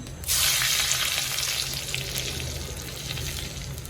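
Dried red chilies drop into hot oil for a leafy greens stir-fry, setting off a loud, steady sizzle that holds close and constant with no voices.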